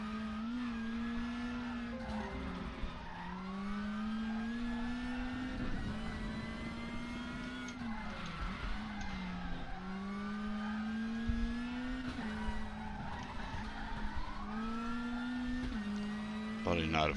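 A Lada WTCC touring car revs hard in a racing simulator at Moscow Raceway, its engine note steadily rising and falling under continuous, fairly loud talk.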